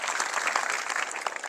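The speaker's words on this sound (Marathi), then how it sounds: "टाळ्या वाजवा." Applause rises from a rally audience at a Maratha reservation gathering led by Manoj Jarange, a dense, steady clatter of many hands that holds at even loudness throughout with no voices over it.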